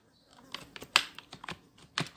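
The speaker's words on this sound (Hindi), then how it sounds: "तो यहाँ पे मैं लिखता हूँ कुछ टेक्स्ट" Typing on a computer keyboard while entering text for an HTML page, a close, irregular run of light key clicks with one or two sharper strikes, alone without speech.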